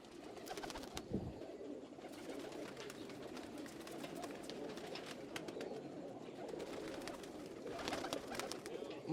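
Pigeons of the old Dilawar Khan breed cooing and fluttering in a loft, soft repeated coos and wing flaps over a low steady background, faint and close.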